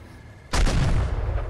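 An artillery gun fires once in the Foxhole war game, a sudden loud close boom followed by a rumbling tail with no talking.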